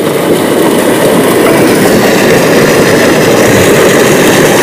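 A farm water pump motor that was started by a phone call runs continuously, giving a loud, even, broadband rumble and whir with no pauses and no voices.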